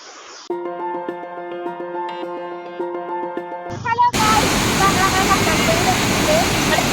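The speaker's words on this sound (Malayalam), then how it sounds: "അപ്പൊ നമ്മളിവിടെ ചെറിയൊരു വെള്ളച്ചാട്ടം കണ്ടു" Small waterfall on the way to Kakkadampoyil, a loud, dense rush of falling water that bursts in for the last three seconds after a stretch of music.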